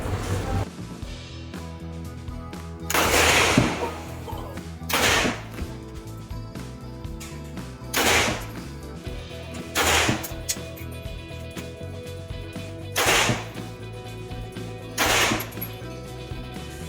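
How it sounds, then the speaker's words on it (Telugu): AK-47 rifle fired at a shooting range in Ho Chi Minh City. About six sharp single shots ring out a couple of seconds apart over a steady background hum. "సో నేను వచ్చేసి ఫస్ట్ టైం లైఫ్లో AK-47 షూట్ చేస్తున్నాను"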